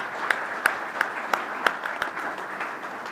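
Applause for panelists at a sustainable development partnerships discussion: a room of hands clapping steadily with a few sharper, louder claps standing out at regular intervals, moderately loud, with no speech.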